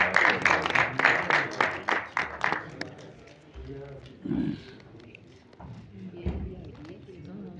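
Audience clapping in an auditorium hall at a death anniversary tribute event for film actor Waheed Murad, a loud burst of rhythmic claps that fades after a few seconds, followed by someone speaking over low room noise.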